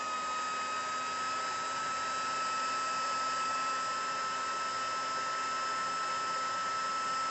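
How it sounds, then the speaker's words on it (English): An embossing heat tool blows steadily on a card, setting embossing powder with a constant loud whooshing hum like a hair dryer, running unbroken and alone throughout. "And let's just set that with the heat tool."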